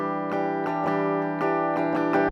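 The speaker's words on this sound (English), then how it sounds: "I have this recording of sort of a Les Paul style guitar, which sounds like this" Les Paul style electric guitar playing a rhythm part, a recording played back: steady strummed chords with sharp rhythmic accents about every third of a second, sustained and fairly loud, no voices.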